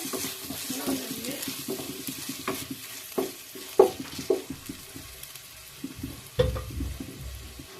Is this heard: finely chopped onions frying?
yes